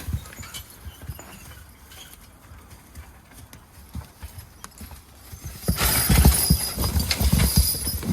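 Belgian draft horses hauling an eight-foot log up a steep hill, with hoof thuds and rattling chains, growing into a loud burst of straining hooves and scraping as the pull peaks.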